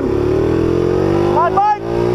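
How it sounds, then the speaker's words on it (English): A Honda C70 motorcycle fitted with a 15-tooth front sprocket holds a steady, close engine drone that sags and bogs down under load toward the end, with talk running over it. "It's bogging down."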